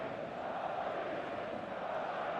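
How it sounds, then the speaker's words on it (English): Stadium crowd in the eFootball video game before kickoff, a dense and steady roar of many voices that stays even and loud throughout, with no commentary over it. "The noise is just about reaching a crescendo here as these two sides get ready to lock horns."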